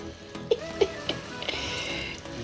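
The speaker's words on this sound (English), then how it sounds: "Let me add some water for effect." Water poured over freshly picked garden produce makes a brief close splashing and trickling, with a few drip-like plinks over a low steady wash.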